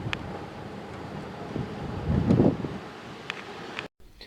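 Wind blows across a nearly empty beach near Peel on the Isle of Man on a cool day, a steady low rumbling buffet that swells into a stronger gust midway and then cuts off abruptly near the end.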